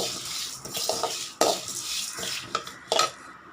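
Sesame seeds fry in a pan for a temple-style puliyodharai, with soft crackling under scraping and stirring of a metal spoon against the pan, close and moderately loud.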